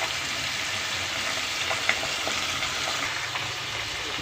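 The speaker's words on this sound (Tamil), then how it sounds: "வெங்காயம் வதங்கும் போதே உப்பு போட்டுறேன்." Two onions with curry leaves sautéing in hot oil with mustard seeds, a steady close sizzle and crackle with a faint clink of a utensil, no voices.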